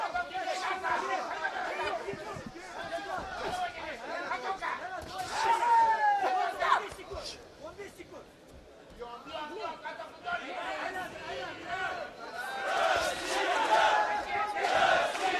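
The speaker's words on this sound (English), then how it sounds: "And there's the chant from the crowd." A crowd at a men's world championship boxing semifinal in Dubai chants and cheers in rising and falling waves, loud and continuous, with voices talking over it.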